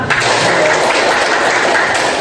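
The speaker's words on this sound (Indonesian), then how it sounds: "Tepuk tangan." Applause from a class of students in a religious-studies teaching session, a steady, dense wash of many hands clapping close by, loud and continuous throughout without a break.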